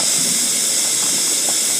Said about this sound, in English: Our Mukimo is still boiling.